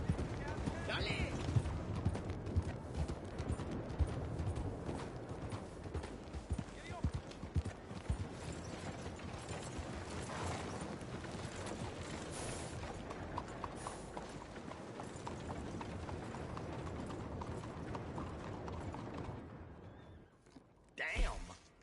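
Horse hooves clip-clop steadily in the Red Dead Redemption 2 video game, with a person talking over the hoofbeats and creaking tack before the sound drops away near the end.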